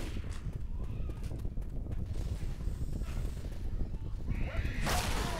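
Horse sounds in a video game: busy hoof clatter and movement noise run steadily at moderate level, ending in a brighter burst of whinny-like or scraping sound, with no clear talk.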